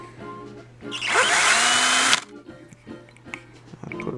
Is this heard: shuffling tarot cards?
no